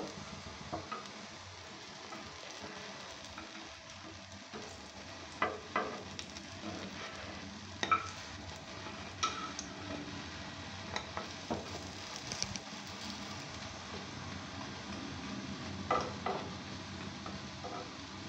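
Besan bora gram-flour fritters frying in oil over medium heat, a soft continuous sizzle with occasional faint clicks and taps of utensils, quiet and steady throughout.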